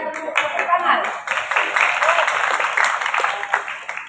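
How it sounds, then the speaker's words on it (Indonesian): A school assembly hall of people clapping together, a burst of applause that rises quickly and carries on steadily for a few seconds. "Ya, tepuk tangan."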